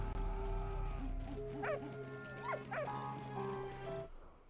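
A dog in the World War I game Valiant Hearts gives a few sharp, clear barks and yips close by, set over a steady musical background that cuts off abruptly at the end.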